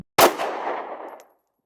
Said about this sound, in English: He just shot Violet.